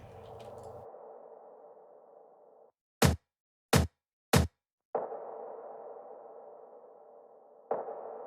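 Short block-hit percussion sample in a melodic house production, three sharp, bright dry hits in quick succession set between stretches of a sustained mid-range synth layer.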